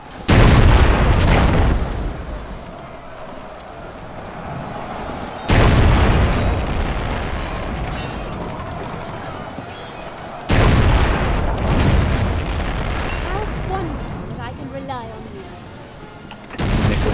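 Oriental warship cannons firing in naval combat in the video game Anno 1404, three heavy booming broadsides roughly five seconds apart, each fading into a long rumbling tail, with brief speech near the end.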